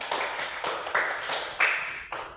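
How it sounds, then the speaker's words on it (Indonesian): A class of students claps for their classmate Kristi, a few sharp, bright bursts of clapping in a loose, roughly even rhythm at moderate loudness. "Oke, tepuk tangan untuk teman kita Kristi"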